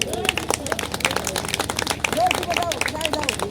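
Audience at a Haryana political rally clapping to welcome a guest, a dense spread of handclaps with crowd murmur and voices mixed in throughout.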